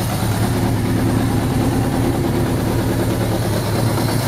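Suzuki GS1100 G motorcycle engine idling on its first start after a carburetor strip-down, a steady low rumbling tick-over with an even pulsing beat, close and loud throughout with no voices.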